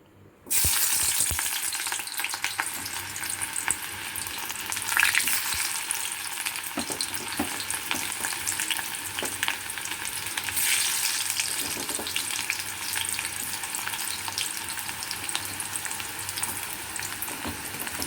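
Chopped onions fry in a pan over lowered heat, giving a loud, steady sizzle that starts abruptly and runs on evenly for a long stretch, with occasional faint stirring scrapes and no talking.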